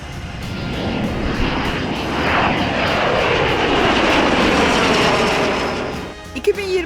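Baykar's Bayraktar Kizilelma unmanned combat jet flies past with a loud, sustained engine roar that swells and fades, ending in a few sharper knocks.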